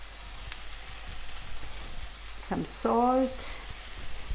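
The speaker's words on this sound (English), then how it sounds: "going to fry this thing a little bit more" Chole, a chickpea curry with chole masala and salt, fries gently in a pan, a faint steady sizzle with a few light clinks and a brief tonal squeak near the middle.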